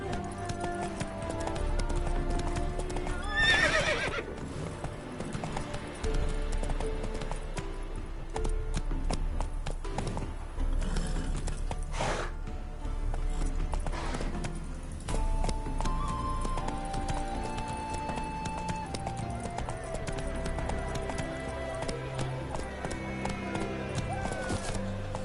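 Roach, Geralt's horse in The Witcher 3, trotting as steady hoof clip-clops on the ground, moderately loud and continuous, with game ambience and a brief high accent early on.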